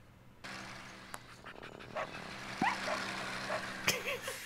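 A cartoonish dog in a Philips CD-i miniature golf game yelps and pants after being struck by a golf ball, with short barks and whimpers over a rumbling background loop.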